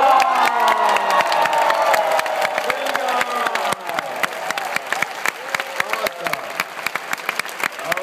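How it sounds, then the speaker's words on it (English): Seminar audience bursts into loud applause with cheers and whoops, a dense sustained roar of clapping and shouting that continues steadily, with a brief spoken exclamation over the crowd. "Give yourselves a big round of applause!"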